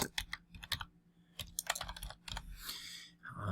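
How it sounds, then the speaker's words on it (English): Keys tapped on a computer keyboard while a password is entered, a run of close, crisp clicks in uneven bursts with short pauses, no voices. "I can type in my own password"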